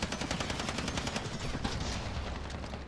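Sniper gunfire in Call of Duty: Modern Warfare sounds as a rapid string of loud, cracking shots in quick succession over a dense battle din, continuous for a few seconds.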